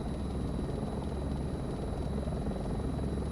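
A helicopter flies low, under 300 feet, along a river in Washington's Methow Valley, its rotor and engine drone steady and loud throughout with a thin high whine on top and no talk.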